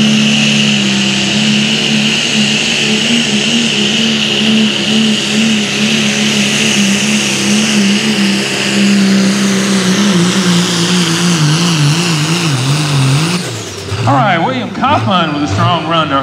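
A four-wheel-drive pro stock diesel truck roars through a pulling run at a Hopkinsville, Kentucky truck pull, with a loud, sustained engine drone that wavers in pitch for several seconds before abruptly dropping off near the end.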